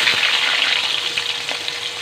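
Cut potatoes sizzle loudly in hot oil in a pan, the first step of a fish curry with potato and eggplant; a continuous close hiss and crackle with a few faint stirring knocks and no voices.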